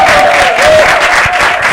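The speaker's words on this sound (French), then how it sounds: "Est-ce qu'on peut applaudir très fort la maman?" An audience applauds loudly for a mother at a French children's show, steady dense clapping filling the short stretch with a faint tonal hum beneath.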